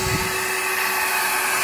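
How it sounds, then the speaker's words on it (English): A vacuum running steadily to suck up yellow jacket wasps, a loud continuous motor whine with a steady tonal hum and no pauses. "Got my vacuum set up."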